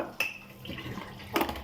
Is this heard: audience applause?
no